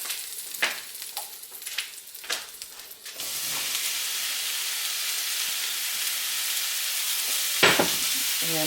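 Mushrooms hit a pan of hot light olive oil and break into a loud, steady frying sizzle that fills the rest of the stretch, after a few scraping, clattering handling sounds at the start and a brief clatter near the end.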